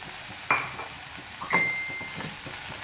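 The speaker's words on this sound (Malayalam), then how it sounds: "നന്നായിട്ടൊന്ന് മിക്സ് ചെയ്ത് കൊടുക്കാം. കുറച്ച് സമയം ഒന്ന് ഇളക്കി കൊടുക്കുക." A spoon stirring vegetable oats upma in a pan on the stove, two distinct clinks of metal against the pan about a second apart over a soft, steady scraping and faint sizzle.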